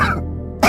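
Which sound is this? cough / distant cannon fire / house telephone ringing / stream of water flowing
cough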